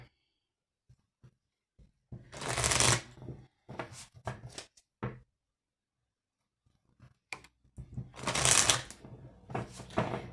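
A deck of tarot cards is shuffled and cut in two quick bursts of riffling and flapping, close and crisp, with scattered taps and short card handling sounds between them and quiet gaps.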